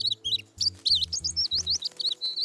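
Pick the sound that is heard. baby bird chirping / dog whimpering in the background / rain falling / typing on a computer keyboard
baby bird chirping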